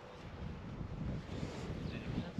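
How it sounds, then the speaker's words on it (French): Steady wind buffets the microphone on a par-5 eighteenth hole of a golf course in southern Portugal, a continuous low rumbling roar with no talk. "Il y a un peu de vent dans le dos."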